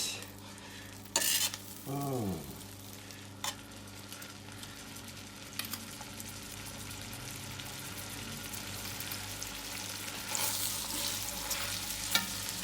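Food browning in a hot pan, a steady faint sizzle broken by a couple of louder scraping stirs and clatters near the start, with a brief exclamation from a voice.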